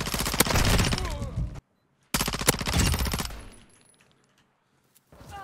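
Automatic gunfire from the Modern Warfare 2 video game comes in two loud, rapid sustained bursts separated by a brief silence. The second burst tails off into quieter game ambience.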